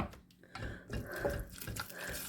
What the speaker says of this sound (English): So I'm going to put in enough water